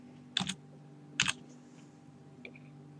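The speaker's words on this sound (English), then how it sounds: "Let me just type it in real fast." Keys on a computer keyboard are tapped in two short quick clusters and a lighter final tap, close and crisp over a quiet hum, while entering a game command.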